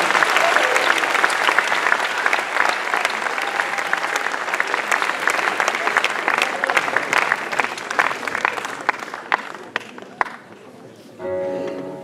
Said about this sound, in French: Bon, applaudissez-les, ça va les faire venir.